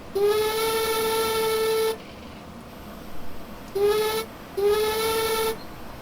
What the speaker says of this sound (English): So the whistle actually, it sounds decent,